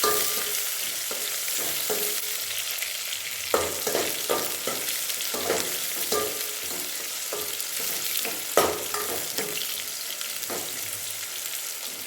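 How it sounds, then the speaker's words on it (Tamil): Onions sauté in a pan for a quail curry, with a continuous close sizzle and fry broken by regular scraping and clattering stir strokes, and no voice over the cooking. "அடுத்து நம்ம வெங்காயத்தை போட்டுக்கலாம். வெங்காயம் நல்லா வதங்கணும்."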